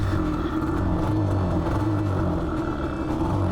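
Yamaha Banshee race quad engine running steadily at a distance, a continuous loud rumbling drone with slight rises in revs, no talk over it.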